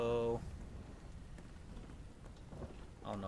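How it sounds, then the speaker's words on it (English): Steady rainfall in the survival game Enshrouded, a faint soft hiss of rain with talk at the start and end of the moment. "It's raining again."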